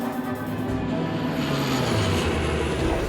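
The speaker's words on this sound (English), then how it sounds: "The sound of the engines recedes into the distance." Airliner engines roar loudly as the plane pulls out of a steep dive, a dense continuous rumble with a slowly shifting tone that holds steady throughout.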